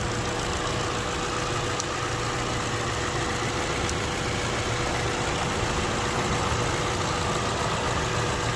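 A Honda Civic EF sedan engine idles steadily and close, with a faint valve tick barely showing beneath the even drone and injector clatter, and no talking.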